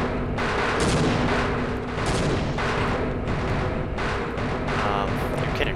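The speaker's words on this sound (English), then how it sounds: "Keep throwing grenades." Repeated booming grenade explosions from the Half-Life shooter game, loud and continuous, with dense blasts following one another across the whole stretch and no talk over them.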